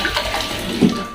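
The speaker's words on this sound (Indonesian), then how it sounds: "yang pertama airnya harus mengalir ya teman-teman" Tap water runs and splashes while a baby bottle is rinsed under the faucet, a steady close wash of water with a brief louder gurgle.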